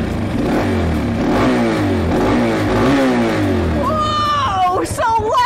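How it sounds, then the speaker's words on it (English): A motorcycle engine revs loudly as its throttle is twisted, the pitch rising and falling in several surges, with a voice speaking over the final seconds. "This is the throttle. When you turn this, this is what provides all the power to the engine because fuel goes into the engine."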